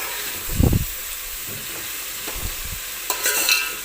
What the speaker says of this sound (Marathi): कांदा आपल्याला हलकासा गोल्डन होईपर्यंत छान असा तेलामध्ये तळून घ्यायचा आहे